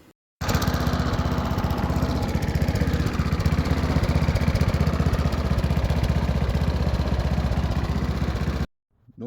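A lawn mower engine starts up and then runs steadily and loudly for about eight seconds with a dense, even throb, then cuts off abruptly.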